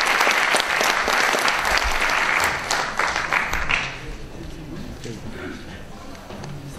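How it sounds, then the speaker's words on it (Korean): A crowd at a Korean book launch event gives warm, loud applause welcoming politician Chung Sye-kyun, dense clapping that fades into lighter scattered claps and room murmur after a few seconds. "정세균 의원님을 여러분 뜨거운 박수로 맞으시길 바라겠습니다"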